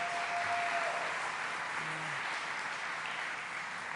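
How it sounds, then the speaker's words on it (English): An audience at a state bill-signing event gives a steady round of applause that holds at an even level throughout, heard from some distance in a large room. "Let's give him a round of applause."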